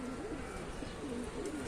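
Pigeons in a loft give soft, repeated low coos, several overlapping calls over a steady noisy background, with faint human voice nearby.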